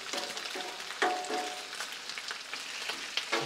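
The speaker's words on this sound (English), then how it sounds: "See, that bacon's ready." Bacon frying on a Blackstone griddle, a steady crackling sizzle full of small pops, with sharper scraping ticks from a spatula now and then; quiet and close, with no voices.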